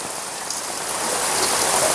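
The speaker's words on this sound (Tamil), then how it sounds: "நல்ல பெரிய மழை வந்து" Heavy rain pours outdoors in a village, a dense, loud, steady hiss of drops on surfaces that swells slightly, with no voices.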